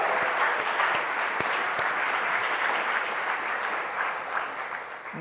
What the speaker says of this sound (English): Please join me one more time in giving them a round of applause.